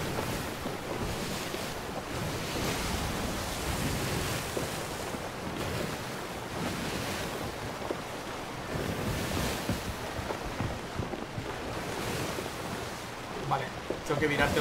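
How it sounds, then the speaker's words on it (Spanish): Rough, choppy sea waves surging steadily in the Sea of Thieves video game, a continuous wash of surf and wind with a player's voice talking over it. "¿Cómo se ha picado la mar, no?"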